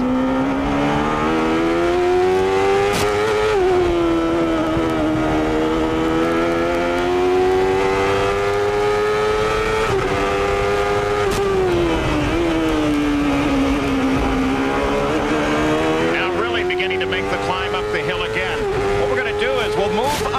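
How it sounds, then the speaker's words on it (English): A Chevrolet-engined CART race car screams at high revs around the 1993 Laguna Seca circuit, its engine note rising and falling steadily as it works through corners, continuous and loud with commentary talk running over it. "Squeezing every horsepower out of that Chevrolet engine"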